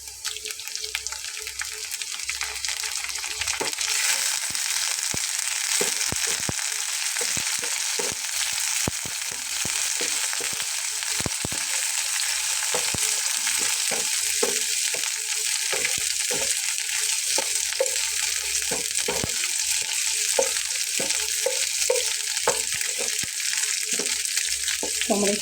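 Prawns frying with browned onions in a pan give a steady, loud sizzle that swells after the first few seconds and continues throughout, with scattered clicks and scrapes of stirring.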